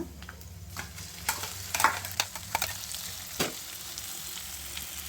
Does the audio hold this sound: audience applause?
no